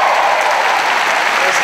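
Loud, dense audience applause at the FedCon 2018 convention opening ceremony for the Battlestar Galactica reunion, a continuous wash of many hands clapping close by.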